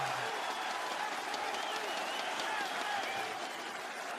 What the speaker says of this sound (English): That is all aces from Forest, standing up and cheering, getting the crowd on their feet as well.